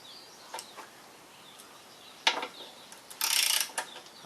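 A half-inch ratchet wrench working on the carburetor bowl of a Troy Bilt machine that won't start makes a few sparse clicks and ratcheting bursts, with a louder rapid run near the end.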